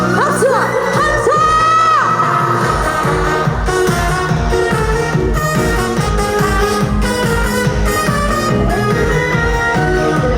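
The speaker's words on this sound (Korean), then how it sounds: "박수와 함성!" At an outdoor concert at the Daegu Chimac Festival, a large audience cheers, whoops and claps loudly and continuously, mixed with the pulsing band music.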